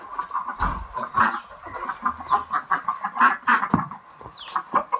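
Free-range country hens cluck repeatedly near a laying nest, a steady run of close, overlapping calls with a few sharper squawks and brief wing flutters, no voices.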